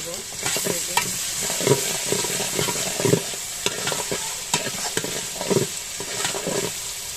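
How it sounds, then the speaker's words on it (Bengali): Ingredients for a maskalai dal sizzling in a pan as they brown, a steady frying hiss with repeated scraping stirs of a utensil, close and without talk. "ভালোভাবে এটা ভেজে নেব, ব্রাউন কালার করে নেব।"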